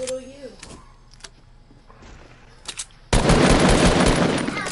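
Quiet game sounds and a few scattered clicks and voices, then a sudden loud, sustained volley of close gunfire in a multiplayer shooter that runs to the end.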